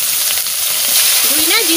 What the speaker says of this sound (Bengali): এই মশলা সব আমি তেলের পরে দিয়ে দিচ্ছি